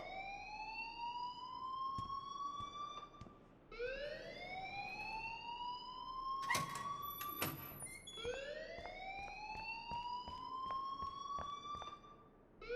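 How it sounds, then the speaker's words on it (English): An electronic alarm sounds in the video game Life is Strange: repeated rising sweeps about every two and a half seconds, steady and prominent, with a few sharp clicks or knocks partway through. "please turn off that alarm since that's your job"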